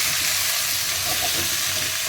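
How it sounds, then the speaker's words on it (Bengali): Food frying in a pan and being stirred, a steady close sizzle with faint scraping, no voices. "ভালো করে একটু নেড়ে নিলাম।"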